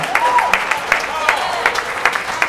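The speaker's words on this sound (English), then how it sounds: "Give God a hand clap from the heart." A church congregation claps by hand, a fairly steady rhythm of sharp claps in a reverberant room with voices over them.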